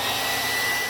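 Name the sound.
blow dryer running on ball helmet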